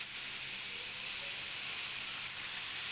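Onions hit a hot pan of oil-free keema for qeema kachori and hiss in a soft, steady sizzle that holds evenly, quiet and close, with no one talking.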